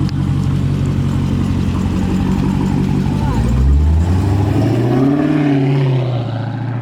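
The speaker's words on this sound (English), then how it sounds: "I heard the supercharger from a while away." A supercharged car engine idling and revving nearby, a loud continuous mechanical drone that swells into a deeper rev, then rises and whines as the car moves off.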